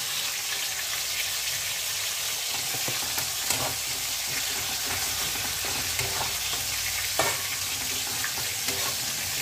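Slit green chillies and ground masoor lentil paste fry with radish greens in a pan, a constant close sizzle broken by scraping stirs and soft clinks of the spoon.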